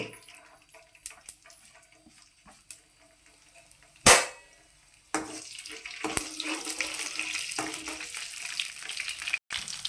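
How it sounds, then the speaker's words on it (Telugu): Cumin, mustard seeds and urad dal hitting hot oil: faint taps and rustles first, then a sharp loud crackle, followed by a sustained close sizzle with popping. "నూనె వేడెక్కిందండి ఇందులో జీలకర్ర ఆవాలు మినపగుళ్ళు మూడు వేసుకుందాము"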